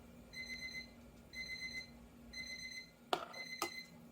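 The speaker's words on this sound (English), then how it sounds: "that's my timer going off, letting me know that I was on time" A kitchen timer goes off while margarita pies with watermelon are made from scratch, giving three evenly spaced bursts of high, bright beeping, followed by two sharp knocks close by.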